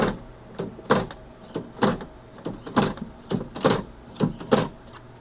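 Metal door handle and latch hardware worked on a 1966 Ford Mustang driver's door, giving a steady series of sharp mechanical clicks and clunks at close range with no talking.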